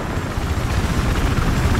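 A helicopter lifting off in Battlefield 4, its rotor and turbine roar loud and close as a continuous dense churning rumble throughout.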